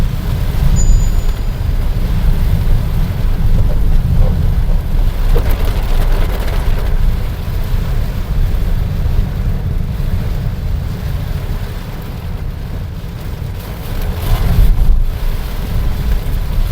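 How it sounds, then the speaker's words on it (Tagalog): Heavy rain pours steadily during a flood, a dense, loud and continuous wash of noise with wind-like rumble, swelling slightly near the end. "sobrang pong lakas ng ulan, grabe, sobrang lakas, oh"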